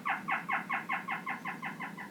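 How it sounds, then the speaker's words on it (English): Free-tailed bat echolocation calls, slowed or shifted into hearing range, form a quick regular train of about a dozen chirping pulses whose rhythm tightens as the bat closes on its prey, clear and alone. "This is the sound of a free-tailed bat getting closer and closer to its target."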